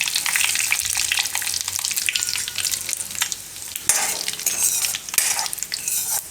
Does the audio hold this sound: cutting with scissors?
no